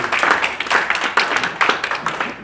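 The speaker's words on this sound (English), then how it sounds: "Please give our 2-time champion Bongumusa Mthembu a big round of applause" A crowd claps and cheers for a two-time Comrades Marathon champion at the 2019 race finish, a lively patter of many hands that swells and dips in waves, loud and near, with no voice on top.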